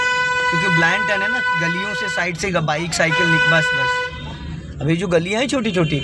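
Car horn sounding long honks at a blind turn in narrow lanes, the vehicle a four-cylinder 1000 cc car; sustained steady horn tones with breaks between, heard under continuous talking.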